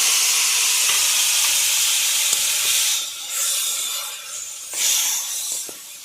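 Water splashes into a hot pan of frying vegetables, setting off a loud, steady sizzle that hisses on, dips briefly, then flares up again before easing.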